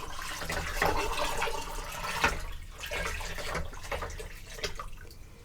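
Water pours steadily into a Nesco canner as 22 cups are added, a continuous splashing, gurgling stream that is close and fairly loud, with small surges and pauses as each container empties.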